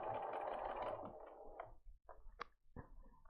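A domestic sewing machine stitches a quilt block, its steady whirring mechanical hum running near and continuous for about a second and a half, then giving way to a few scattered clicks and handling noises.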